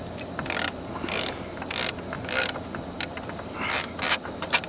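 A socket wrench ratchets in repeated bursts while nuts come off a 2015 Nissan Pathfinder during a cooling fan replacement, close and fairly loud, about seven clicking spurts with brief pauses and no talk.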